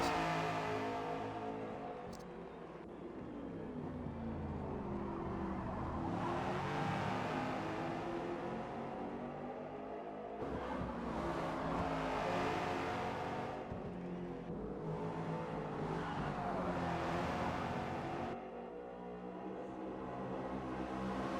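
Race cars sliding around the track in a racing video game, engines droning and revving steadily throughout with rising and falling pitch as the cars slip through corners.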